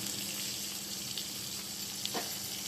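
Tomatoes sprinkled with salt fry in a pan with a steady, close hiss of sizzling oil, broken by a few small pops and bubbling crackles.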